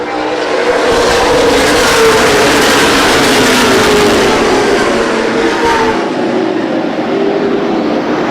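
CRA Late Model Sportsman stock cars racing at Winchester Speedway, a loud sustained roar of several engines passing and revving, with pitch shifting as the pack sweeps by and fades slightly near the end.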